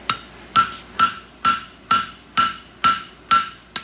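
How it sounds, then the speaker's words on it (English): A hammer strikes a steel horseshoe bar for a French hind straight heartbar on an anvil, about eight sharp, evenly paced ringing blows, loud and close, each with a short metallic ring. "All I'm doing is using the anvil to push that other stuff down."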